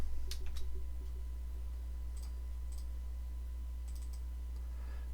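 Keyboard keys clicking in a few short bursts, a handful of quick taps entering a hex colour code, faint against a steady electrical hum with no talking.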